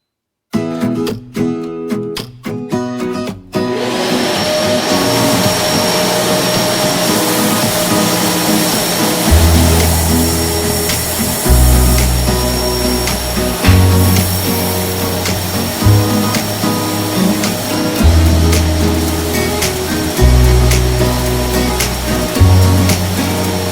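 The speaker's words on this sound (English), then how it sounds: "So this is our edge sander. This is where we're going to mill down" An edge sander in a woodworking shop mills down wood edges with a loud, steady machine roar and a constant high whine, while heavier grinding surges swell and fade at regular intervals during the passes.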